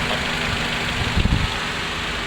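Daihatsu Terios engine with all four ignition coils newly replaced, idling rough and shaking: a constant close-up mechanical drone with a brief uneven low thump partway through, no talk.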